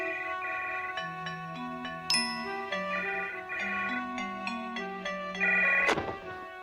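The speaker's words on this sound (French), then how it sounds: "Allô, oui? Oh, c'est toi, Fantasio." A telephone ringing in a French animated series, playing a melodic electronic ringtone of stepped tones and chimes. It sounds close and clear, with no voices, and ends in a sharp clunk as the receiver is picked up.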